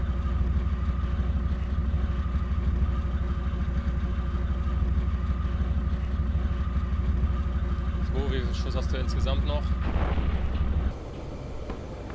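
Continuous heavy rumbling tank engine drone with booming artillery blasts in the Steel Beasts Pro simulator, and a sudden drop in level near the end.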